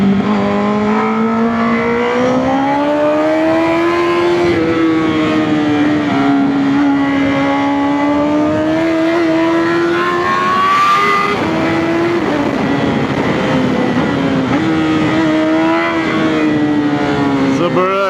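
A Honda CBR 1000 RR motorcycle engine drones loudly and continuously, its pitch climbing and falling through revs and gear changes at riding speed, with heavy wind rush throughout.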